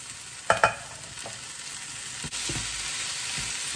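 Boiled green gram being stirred into a coconut and jaggery mixture in a pan, a couple of scraping clatters early, then a steady moist sizzle and soft stirring, close and alone without speech.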